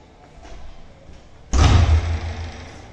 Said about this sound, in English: Once we open the door,